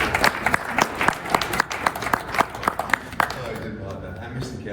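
Applause from the crowd at a boxing press conference for Daniel Jacobs vs. Julio Cesar Chavez Jr., brisk clapping with sharp individual claps standing out, fading to quieter room noise near the end.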